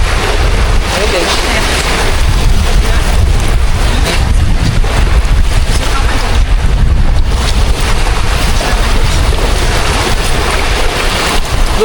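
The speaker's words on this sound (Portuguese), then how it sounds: "E tá ventando demais" Strong wind buffets a jungle camp during rain, a loud, unbroken roar of gusts battering the microphone close up for the whole stretch.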